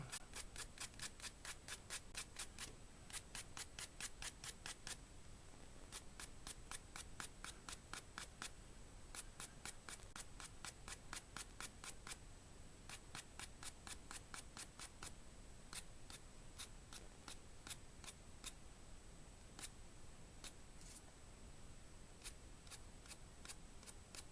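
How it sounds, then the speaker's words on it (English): A woodturned piece being sanded on the lathe, a fast, steady rhythmic scratching of abrasive against spinning wood, close and continuous with brief pauses, no talking. "And a little bit of sanding on this guy, not much though."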